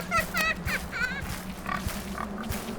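A pig in an Alice in Wonderland video game gives repeated grunts and oinks, loud and close, with a steady low background hum.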